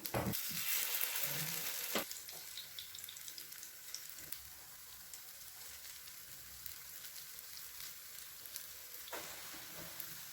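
A rice and yogurt snack sizzles in a pan over a low gas flame, a soft, continuous crackle with a louder burst near the start before settling into a steady quiet fry.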